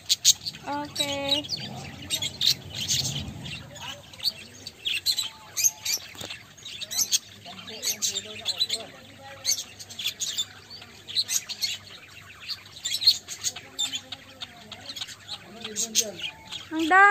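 Many birds chirp, tweet and squawk over one another in a busy chorus on a farm in the UAE, with people talking quietly underneath.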